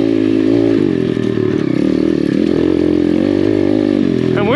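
A Chinese dirt bike climbs a steep hard enduro trail in second gear, its engine a loud, close, continuous drone with clattering over rough ground and a rising rev at the very end.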